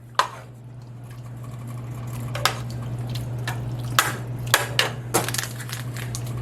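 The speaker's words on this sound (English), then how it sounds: "And so now we're gonna stir this first." A pot of chili beans with a can of Rotel tomatoes gets stirred, giving a few scattered scraping knocks and clinks over a steady low hum, close and fairly quiet.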